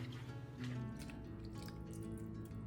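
Water drips and trickles from a Napa cabbage leaf soaked in a bowl of cold water, with faint, irregular small splashes heard close up over a soft tonal background.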